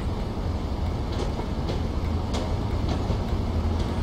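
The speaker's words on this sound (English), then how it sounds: "Where's our train? Here's our train." A British Rail Class 31 diesel locomotive in Train Simulator rumbles along steadily on the East Coast Main Line with a low, continuous roar and faint periodic clicks, sounding like game audio with no voices.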